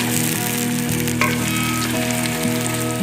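Potatoes added to hot oil with onions, left from frying bitter gourd, give a loud, continuous sizzle with a steady hiss and a few brief spatula taps.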